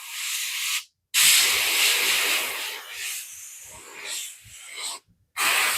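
Airbrush spraying paint onto custom rivets, a steady close hiss in bursts of a few seconds, broken by brief pauses where the trigger lets off.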